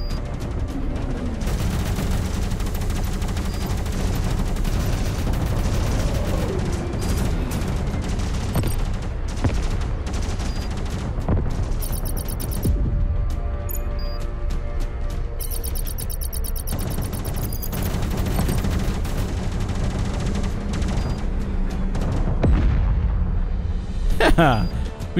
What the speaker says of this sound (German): Ich höre zu viele Explosionen, das gefällt mir nicht.